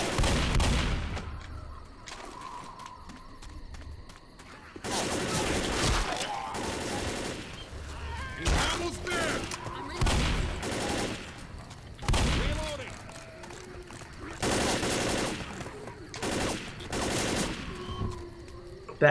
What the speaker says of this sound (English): so I just shot like a couple bullets